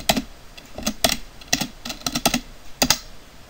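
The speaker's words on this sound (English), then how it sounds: "And then you type in your password." A password is typed on a computer keyboard in an Ubuntu terminal, with clusters of quick, irregular key clicks heard close up and on their own.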